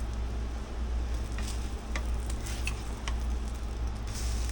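Steady, close sizzle of food frying in a pan just after being flipped, a continuous crackling hiss with scattered sharper pops and a low background hum, no talking.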